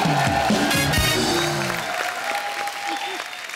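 A studio audience at The Kapil Sharma Show bursts into loud, sustained applause with some cheering, the clapping slowly tapering off while a voice speaks over it.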